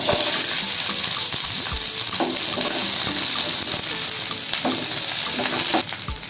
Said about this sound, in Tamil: 10 பல்லு பூண்டு போட்டு நல்லா வதக்கி எடுத்துக்கலாம்